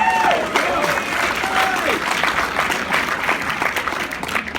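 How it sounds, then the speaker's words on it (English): Applause from a church audience, continuous crowd clapping throughout with a voice speaking over it. "I really want to give a large applause"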